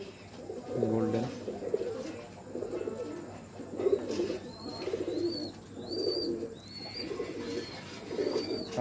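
An old female pigeon coos in repeated soft bursts, close by, with occasional high chirps from other birds in the background.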